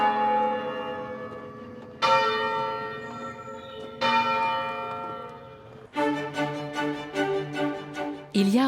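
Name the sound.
English church bells being rung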